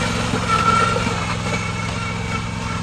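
A mechanical rice transplanter's small engine runs in a paddy field, giving a loud, close, steady throbbing drone with an even rhythmic pulse throughout.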